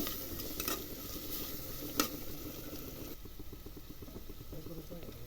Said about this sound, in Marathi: 1 चमचा मी आलं लसूण पेस्ट टाकलेली आहे, ती सुद्धा चांगली व्यवस्थित तेलामध्ये परतून घ्यायची।